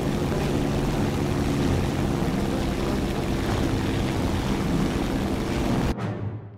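Propeller aircraft engine roaring steadily at high throttle in the War Thunder video game, a loud continuous drone with a deep rumble that cuts off abruptly near the end.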